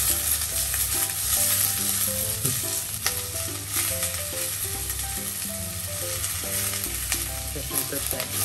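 Sukiyaki frying in a pot at a Japanese hotpot restaurant, a steady close-up sizzle and crackle with faint stirring and clinks, no voices.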